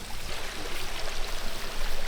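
Water rushes steadily over rocks in a small stream at a farm pond area, a continuous, fairly close broadband splashing babble with no voices.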